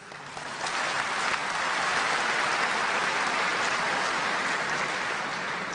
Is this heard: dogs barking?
no